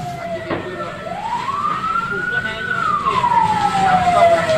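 A fire truck siren sweeps up and falls back in one long, loud wail over a rumble of street and traffic noise.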